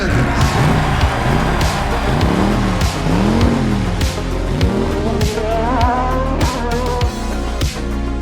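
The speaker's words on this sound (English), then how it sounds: "Drivers, start your engines!" Race car engines roar loudly and continuously, repeatedly revving up and down in sweeping swells, with hints of tire squeal amid the dense mechanical din.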